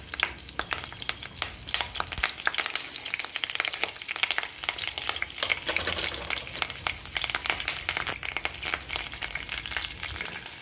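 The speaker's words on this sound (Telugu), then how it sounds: "ఇందులో కొద్దిగా జీలకర్ర వేసుకుందామండి. కొద్దిగా కరివేపాకు," Cumin seeds and curry leaves fry in hot oil, a dense, loud crackling sizzle with rapid popping spatters, close up and continuous, no one speaking.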